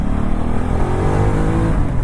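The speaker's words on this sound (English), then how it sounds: "we're just going to overtake Farmer Giles here nice and safely" 2019 Ducati Multistrada 1260 motorcycle accelerating hard to overtake on an open road, a loud, steady engine drone with rising harmonics that climb smoothly through the gears, close and continuous, with wind rush underneath.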